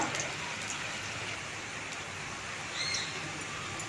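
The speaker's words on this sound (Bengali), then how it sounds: "প্রথমে আমি 3টে ভেজে নিলাম, ভালোভাবে এপিট ওপিট লাল করে ভালোভাবে ভেজে আমি তুলে নেব।" Coriander leaf fritters (dhonepata chop) fry in hot oil with a soft, steady crackling sizzle heard close up, plus faint scattered pops and no talking.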